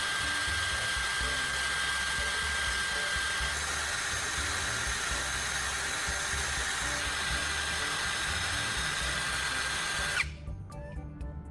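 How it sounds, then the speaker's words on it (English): A power drill spins a carbon rod while its tip is shaped with sandpaper, giving a steady high whine with a gritty hiss that runs unbroken for about ten seconds and then cuts off abruptly. "I'm inserting the carbon rod into my drill and carefully shaping its tip with sandpaper"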